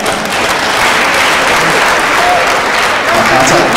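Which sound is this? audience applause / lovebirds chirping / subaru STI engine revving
audience applause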